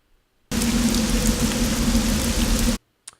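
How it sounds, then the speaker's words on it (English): Steady exterior rain for a looped ambience outside a robot factory, a dense even hiss of falling drops that starts abruptly and cuts off cleanly after about two seconds, with a faint low hum beneath. "just a consistent rain clip that you'll hear when you're outside of the robot factory"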